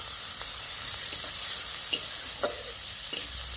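Spice paste for a jackfruit seed curry fries in a little oil under a loud, even sizzle, with a few light scrapes and taps of the spoon as it is stirred.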